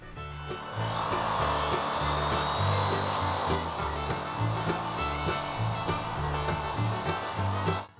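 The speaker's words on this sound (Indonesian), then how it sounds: "diproses dengan gerinda sudut dengan flap disk" Angle grinder fitted with a flap disc smoothing wooden boards for a raised garden bed, a loud continuous whining grind close by, steady for several seconds before cutting off at the end.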